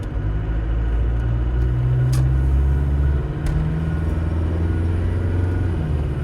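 A 1995 Range Rover County diesel pulls away under steady acceleration. Its engine rumble drones loud and continuous from inside the cabin, with a brief dip midway as it changes gear.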